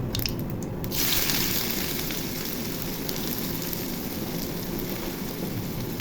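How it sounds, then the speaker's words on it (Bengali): Chopped onion hits hot oil with cumin and bursts into a loud, dense crackling sizzle that continues steadily, with a brief rustle as the onion drops in. "এখন পেঁয়াজ কুচি দিয়ে দিব।"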